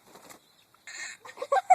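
A barred rock hen clucking close by, short bursts of hen calls with a few brief, sharper clucks toward the end.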